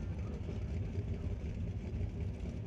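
A doorslammer drag racing car engine during a qualifying round at a drag strip, a distant steady roar with a whirring rumble heard throughout.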